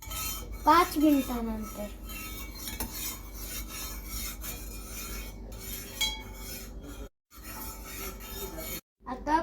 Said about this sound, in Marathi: साखर विरघळेपर्यंत याला ढवळत राहायचं.